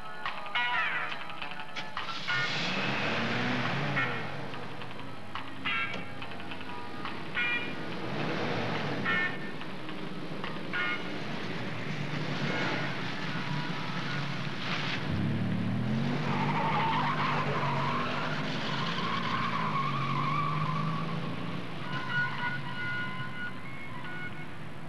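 An old car being driven, with engine drone and tyre skids running steadily under the whole stretch, close and fairly loud, with some faint voices mixed in.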